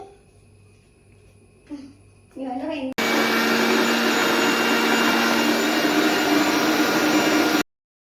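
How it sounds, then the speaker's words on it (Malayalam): A mixer grinder grinds coconut with cumin, roaring loudly and steadily for about five seconds before stopping abruptly. A few brief clunks and a short whir come first as the jar is set and tested. "തേങ്ങ മിക്സിയുടെ ജാറിലേക്ക് ഇട്ടിട്ട് നമ്മൾ കുറച്ച് ജീരകവും കൂടി ഇട്ടിട്ടാണ് അരച്ചെടുക്കുന്നത്"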